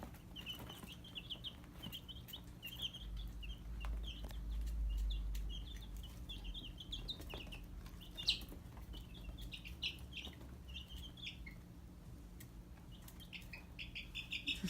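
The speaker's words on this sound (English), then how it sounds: "I could sit here all day and watch these little birds argue and fight and wrestle" Chicks, including Americana and Dominique breeds, peep and chirp in a baby-pool brooder, a busy run of short high-pitched calls, fairly close but quiet, with occasional scuffling and a low background hum.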